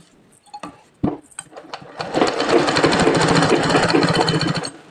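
A sewing machine stitches frock lining cloth, opening with a few scattered clicks and handling knocks, then settling into a continuous close whirring run of about three seconds that stops abruptly.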